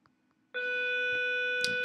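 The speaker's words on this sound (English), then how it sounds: "Sorry, that's a bell." A bell, likely a school bell, sounds as a sudden steady electronic tone held at an even level for over a second after a near-silent start, loud and unbroken.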